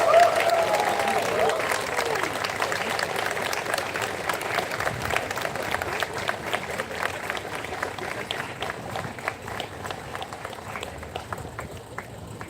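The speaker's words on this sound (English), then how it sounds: "He deserves a very big round of applause." Audience applause rings out at a C-DAC Mumbai convocation for the top student of a course, a long even stretch of many hands clapping that continues steadily and only slightly thins toward the end.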